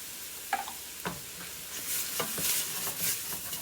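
Spices being stirred with onions and garlic in a hot pan, a steady sizzle heard up close, broken by a few scraping utensil strokes against the pan.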